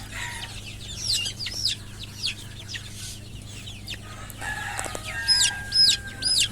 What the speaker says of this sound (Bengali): এই যে এই মোরগ বাচ্চাটা ধরবো